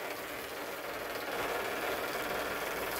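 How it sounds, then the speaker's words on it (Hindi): A Powertrac 439 tractor engine runs with a continuous rough rumble and rattling vibration, steady and close. "किकरिक किकरिक कर रहा है ट्रैक्टर।"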